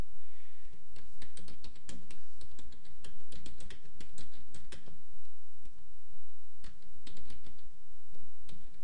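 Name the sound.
typing invoice message text on a computer keyboard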